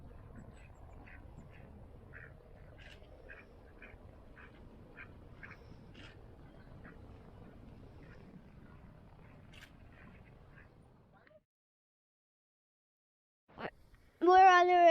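Ducks quack in a series of short, evenly spaced calls at a forest park, moderately distant over a low rumble, followed by silence and a loud close burst of sound at the end.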